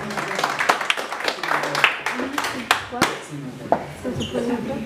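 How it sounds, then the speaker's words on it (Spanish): Applause and hand clapping greet the bride at a mariachi pre-wedding serenade, a steady patter of many hands with sharper individual claps, fairly close, mixed with voices and festive background noise. "Y un aplauso bien bonito, mi mujer"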